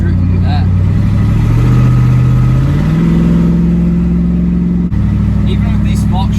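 Jeep Rubicon 392 engine pulling hard while towing a trailer, a loud, steady mid-range roar that climbs in pitch through the gears, continuous and close for several seconds.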